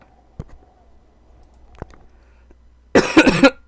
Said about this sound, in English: Sorry for the coughing, still getting over this cold.